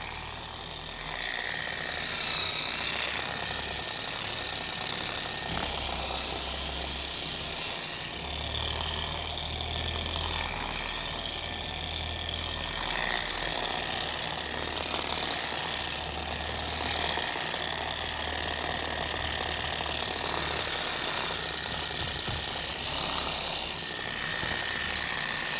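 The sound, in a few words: polishing machine with pad working on boat gelcoat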